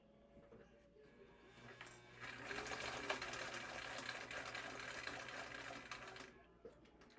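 Sewing machine stitching through thin cork on a minimalist wallet pocket, a steady continuous mechanical whir that starts softly, runs loud for several seconds, then stops.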